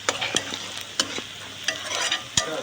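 Onions and green chillies frying in a pan, giving a steady close sizzle broken by several sharp stirring scrapes and clicks of a spoon against the pan.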